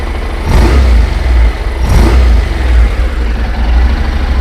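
A Honda NC700X motorcycle engine revs up loud and close in two throaty low-pitched surges over a steady rumbling idle, with no talking.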